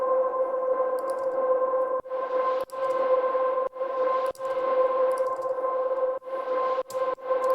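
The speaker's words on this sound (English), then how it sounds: "You got the drone, some Valhalla on there." Sustained synth drone with Valhalla reverb in a melodic bass EDM production, holding steady tones broken by short gaps and sharp clicks, alone without talk.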